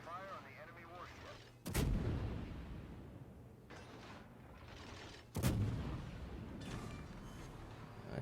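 Two heavy naval gun salvos from a warship in the video game World of Warships, each a loud sudden blast followed by a long rumbling decay, separated by several seconds of quieter background.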